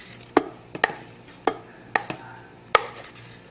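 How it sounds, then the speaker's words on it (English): Wooden spoon knocking and scraping homemade ice cream mixture into a bowl, five or six sharp, distinct taps spaced about half a second apart against a quiet background. "I'm going to use this wooden spoon here to get the rest of the ice cream mixture into the bowl"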